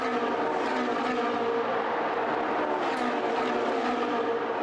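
Ferrari Challenge Trofeo Pirelli race cars roar past at Monza in sunshine, a dense, loud, continuous engine drone with no pauses, several cars blending together.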